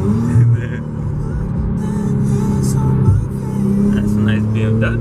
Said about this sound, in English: That's a nice BMW.